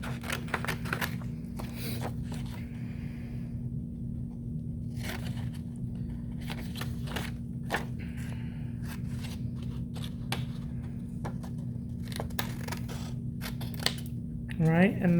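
Scissors cut paper for a first-grade sunrise landscape art project, giving repeated crisp snips and rustles over a steady electrical hum, with a voice speaking at times.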